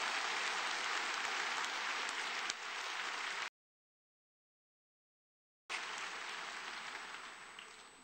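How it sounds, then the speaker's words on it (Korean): A church audience claps to welcome a speaker. Bursts of steady, even applause come before and after a stretch of complete silence in the middle. "뜨거운 박수로 환영해 주시기 바랍니다"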